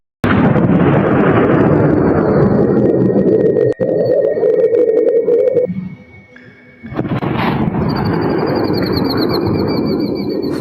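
A loud, deep rumbling boom rolls on for several seconds, fades into a quieter lull, then a second rumbling swell rises again.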